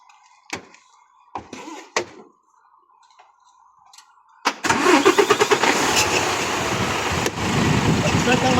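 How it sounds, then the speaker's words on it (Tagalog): A truck tractor head's diesel engine cranks and starts after a few brief clicks and knocks, then settles into a loud, steady close idle with rhythmic chugging pulses. "start ko muna yung makina"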